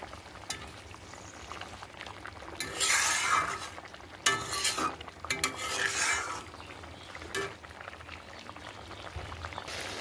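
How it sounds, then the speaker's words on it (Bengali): Pabda fish simmer in gravy in a pan, a low bubbling hiss underneath with louder bursts of stirring and scraping of a spoon through the sauce, then quieter stretches of steady simmering. "মাছগুলো ঝোলের মধ্যে দিয়ে দিয়েছি এবার ফুটিয়ে নেবো বেশ কিছুক্ষণ"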